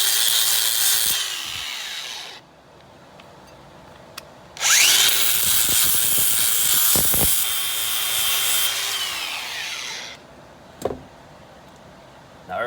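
Angle grinder fitted with a wire wheel brushing Chevy throttle body injection parts, loud whirring bursts that spin up, run for a few seconds and wind down, separated by quiet pauses.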